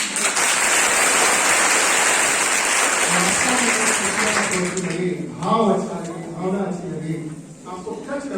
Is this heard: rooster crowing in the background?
no